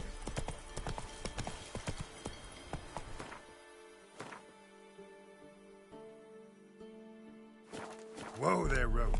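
Roach the horse trots in Witcher 3, hooves clip-clopping in a quick rhythmic beat that slows to sparse steps before a man calls out over a snort or whinny at the end.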